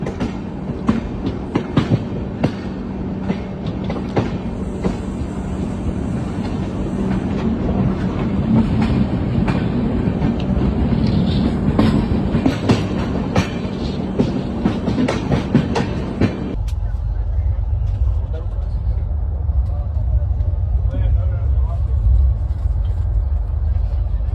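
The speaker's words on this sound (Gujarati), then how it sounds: "अपनी ट्रेन निकल पड़ी है मुंबई सेंट्रल से अहमदाबाद के लिए" A train from Mumbai Central to Ahmedabad rumbles loudly along the tracks with steady rhythmic clatter of wheels on rail joints, heard from inside, the sound turning duller and deeper partway through.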